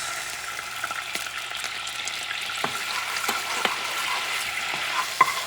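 Wagyu beef sizzling in a pan with mirin and soy sauce: a steady hiss of frying with occasional sharp crackles and stirring scrapes, close and moderately loud, no talking.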